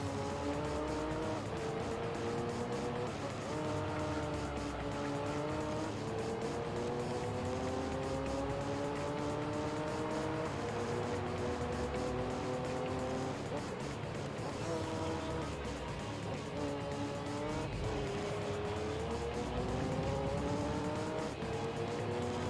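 Race cars roar through a Gran Turismo 3 game race with rising and falling engine tones as gears shift, loud and continuous with occasional tire squeal, a player's voice talking over it.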